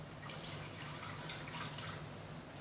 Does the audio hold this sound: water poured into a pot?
yes